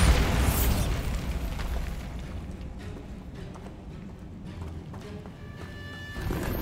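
A Bombarda blasting spell cast in Hogwarts Legacy booms at the start, then a rumbling, crackling aftermath fades gradually before a second surge of noise near the end.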